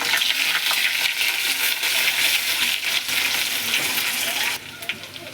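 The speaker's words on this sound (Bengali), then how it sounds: "এতে রসুন দিয়ে দেব, হালকা করে রসুনটা ফ্রাই করে নেব।" Garlic and green chillies frying in hot oil for a potato fish curry, a dense, continuous close sizzle that drops away near the end, with no voices.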